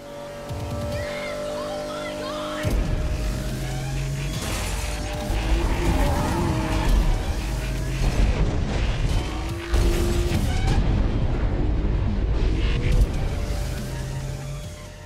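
Racing cars smashing into rivals and wrecking buildings in the arcade racer Ridge Racer Unbounded, with loud engine roar, repeated crashes and crunching impacts, and steady background music throughout.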